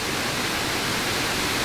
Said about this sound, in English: Kind of have two waterfalls in one right here.